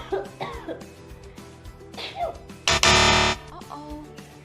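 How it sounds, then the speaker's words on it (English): A person coughs and sneezes without covering the mouth, a few scattered throaty bursts followed by one loud, explosive sneeze near the middle, close and fairly loud against a quiet indoor backdrop. "that's not the way how to cough or sneeze"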